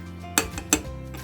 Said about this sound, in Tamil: இப்போ நம்ம பொரிக்கிறதுக்கு பேனை எடுத்து வச்சிடலாம்.